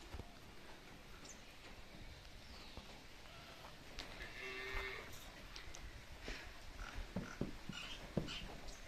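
Khillar cattle, along with Gir, Sindhi and other cows, in a farm shed, with several moos and lowing calls rising over steady barn ambience, some near and some farther off, and no talking.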